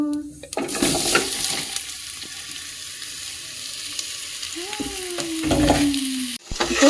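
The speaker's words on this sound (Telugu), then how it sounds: "ఇప్పుడు మ్యాంగోస్ని చక్కగా ఇలా అలా కలుపుకున్నాం" Mango pieces are stirred in a hot frying pan for mango murabba, giving a continuous close sizzle with scraping strokes of a utensil against the pan and a faint tonal squeak near the end.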